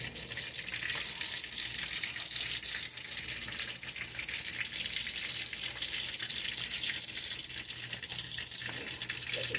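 Fish fillet and fries frying together in fresh oil, a steady dense sizzle with crackling bubbles running continuously and fairly close throughout, no voices.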